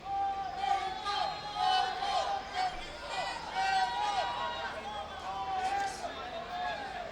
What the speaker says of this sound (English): to not get swayed by some of this crowd noise you hear